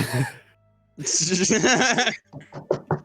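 A person vocally imitates snoring in a tabletop role-play session: a breathy intake, a drawn-out raspy rumbling breath, then a few short snorting bursts, close and fairly loud.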